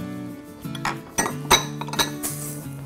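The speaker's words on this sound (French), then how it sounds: "je vais donc mettre toutes ces épices dans une poêle" Spices for Hror, a spice blend, go into a frying pan with a series of light clinks and taps of metal and dishware, close and quiet, over a faint steady hum.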